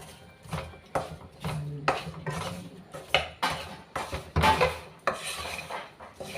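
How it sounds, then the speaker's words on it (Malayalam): A spoon stirs fried mango pieces into an oil-based mango pickle mixture in a metal pan, scraping and clinking in a steady repeated rhythm, close and moderately loud, with no talking. "ഒന്ന് ഇളക്കി യോജിപ്പിച്ചെടുക്കുക."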